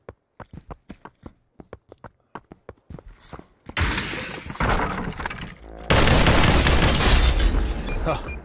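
A gold weapon firing in a video game shooter: a rapid string of sharp, distinct shots in an uneven rhythm, followed by sustained, loud, roaring blasts.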